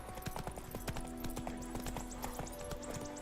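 Horse hooves clip-clopping in a steady cantering rhythm from a mount in The Witcher, close and continuous with faint background ambience and no talk.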